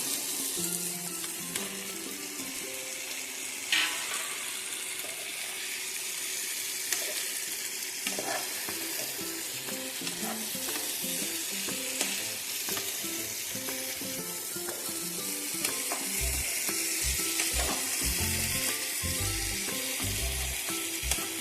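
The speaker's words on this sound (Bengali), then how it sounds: "ভালো করে মশলার সাথে মিশিয়ে নেব" Fried potatoes and jackfruit tossed with spices in a pan for echor do piyaja, a long steady sizzle with repeated spatula scrapes and knocks that grow more frequent and louder toward the end.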